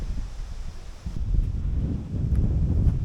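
Heavy wind buffets the microphone at a lakeside cove along a kayaking and hiking route, a constant low rumble that swells louder after the first second and keeps roaring, with no voices.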